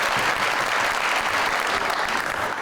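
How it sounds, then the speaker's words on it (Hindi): Loud, dense applause from a studio audience welcoming guests onto a talk show set, continuous clapping filling the whole stretch with a faint crowd murmur underneath. "बहुत सारी तालियों में।"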